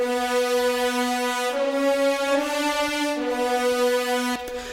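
French horns doubling a driving line in the pre-titles of the Beat The Chasers theme, sustained brassy chords that step between pitches over a full orchestral backing, loud and continuous with brief percussive hits.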